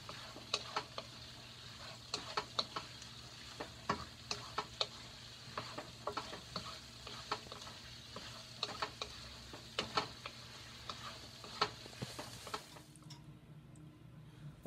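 Shrimp and broccoli stir-fry in sesame oil with a soft, steady sizzle. A utensil scrapes and clicks against the pan in an irregular rhythm, close but fairly quiet, until the stirring stops near the end.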